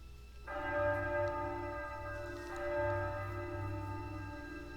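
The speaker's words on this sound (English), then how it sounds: "That's the bell at Ironstone." A deep bell tolls at Ironstone at midnight on a snowy night in the video game Triangle Strategy, two slow resonant strikes ringing out and decaying over a quiet backdrop.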